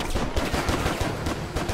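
Rapid gunfire in the video game Stranglehold, a dense, continuous barrage of loud shots rattling close and hard with no pauses, the bursts blending into one another throughout.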